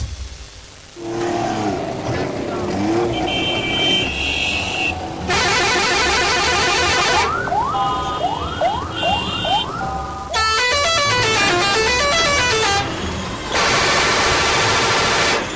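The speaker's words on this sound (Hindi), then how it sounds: "इतना शोर, कहीं हॉर्न बज रहे हैं, कहीं प्रेशर हॉर्न बज रहे हैं" Loud, chaotic street traffic on Chundrigar Road, Karachi, with overlapping car horns and blaring pressure horns, some wavering like sirens, sounding one after another over a constant engine rumble.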